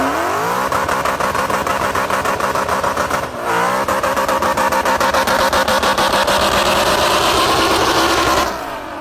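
A car engine revs hard and bangs repeatedly against the rev limiter in a rapid stuttering buzz, loud and close, briefly dropping off partway before resuming and then easing at the end, with no talk.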